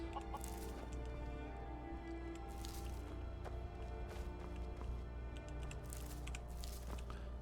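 Chickens cluck and squawk on a farm in Skyrim, a steady fowl chatter over a dense, loud game soundscape with no speech.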